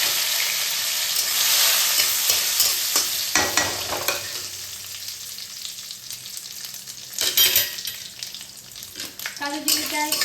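Nigella seeds (kalo jeere) frying in hot oil for a Bengali dish: a close, loud sizzle that fades after a few seconds, broken by stirring scrapes and clinks.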